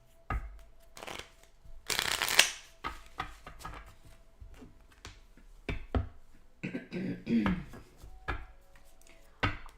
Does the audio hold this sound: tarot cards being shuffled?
yes